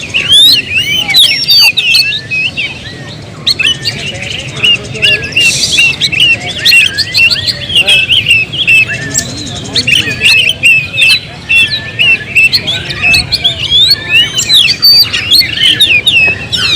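Oriental magpie-robin (kacer) singing loudly and up close, a continuous run of varied whistled phrases, chirps and rapid trills over a busy background with no pauses.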